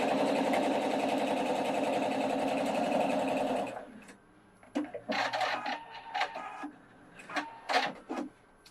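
A Pfaff 710/720 sewing machine stitches a quarter-inch seam at a fast, steady chatter for a few seconds, then stops, leaving faint handling clicks and rustles.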